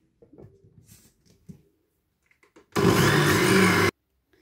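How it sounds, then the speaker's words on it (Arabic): An electric blender whirs loudly for about a second as it mixes eggs, a pinch of salt and a spoonful of vinegar for a chocolate cake, after a few quiet kitchen clatters. "غادي نطحن هاد المكونات مزيان حتى نشوف باللي البيض تخلط لي مزيان"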